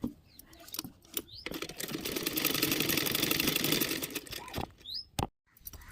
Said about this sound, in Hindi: अब हम इसको इस पर सिलाई लगाएंगे